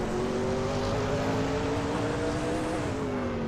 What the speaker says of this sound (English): Bot Trash Crashton is driving a Lamborghini Diablo GT